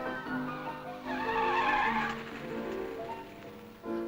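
Cars fresh from the motor show are driven hard around the Chiswick test ground, engines roaring steadily for about four seconds with tyres skidding and squealing in a continuous wash of sound.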